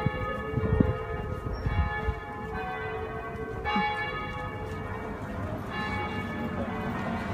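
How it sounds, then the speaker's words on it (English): Cathedral bells ring continuously with layered, sustained tones, steady and fairly loud, over a low outdoor rumble. "The bells from the cathedral have been going nonstop for like five minutes."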